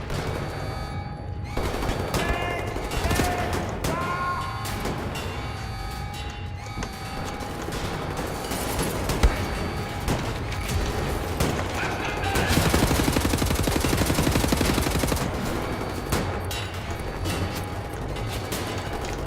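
Gunfire in the shooter game Wolfenstein: The New Order comes in rapid bursts against a shotgun-armed enemy, with continuous loud volleys, clatter and combat noise that surge toward the end.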